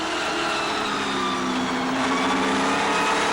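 Race trucks running under green at the bull ring at Las Vegas Motor Speedway, a dense continuous roar of several engines at full throttle, loud and sustained with no pauses.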